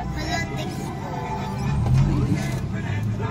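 Street traffic on Legarda on a Sunday, a close, continuous rumble of cars and engines with a swelling pass midway, while people talk over it.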